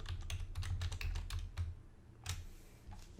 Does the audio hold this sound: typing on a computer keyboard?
yes